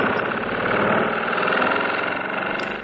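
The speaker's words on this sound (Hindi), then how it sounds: "इंजन चल रहा था।" A bus engine runs steadily and loudly close by, with a continuous rumbling drone and faint knocking pulses and no talk.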